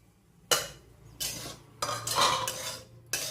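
Semolina being stirred into melted ghee in a large kadhai over low heat, heard as a spoon scraping the pan in several close, loud bursts with short pauses between them.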